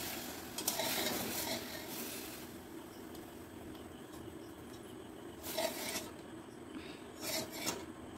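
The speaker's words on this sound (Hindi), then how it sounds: "देखिए कैसे करछी चला रहा है कढ़ाई में" A ladle stirs frying food in a kadhai, making a quiet, continuous scraping and rasping sizzle with bursts of louder strokes near the start and again toward the end.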